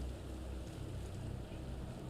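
A boat engine idles steadily in a fishing video game, a constant low rumble with wind-like hiss running alone throughout.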